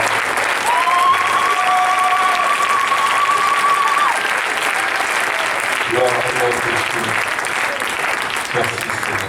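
A church congregation applauding, sustained loud clapping from a crowd that fills the space, with a voice and sung or spoken tones rising over it before the applause tapers.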